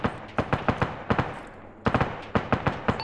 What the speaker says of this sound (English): still taking audible gunfire from our north